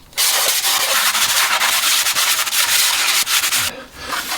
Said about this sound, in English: we're going to use a smaller sanding block on this tail section